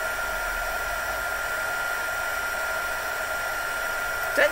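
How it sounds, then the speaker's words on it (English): A heat gun blows a steady, loud whooshing hum while heat embossing a card, running continuously with a brief knock near the end. "Right, so heat embossing,"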